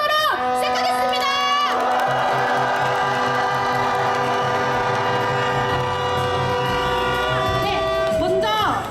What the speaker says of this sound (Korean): 참가자분들의 힘찬 박수와 함성으로 시작하겠습니다